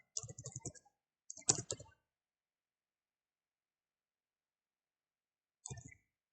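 Typing a mailbox name on a computer keyboard produces two short bursts of quiet, close key clicks, then a long silence and one more brief flurry of taps.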